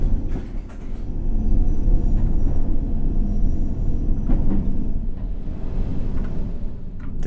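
A District Line subway train departing in the World of Subways 3 game, with a low continuous rumble of wheels and motor, a few clunks and rattles along the way, and no talking.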